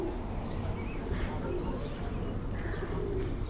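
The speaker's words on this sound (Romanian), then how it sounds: "porumbeii își fac apariția" Pigeons coo in Pigeon Valley with soft, repeated low calls. Occasional chirps rise over a steady outdoor rumble of wind or ambient noise.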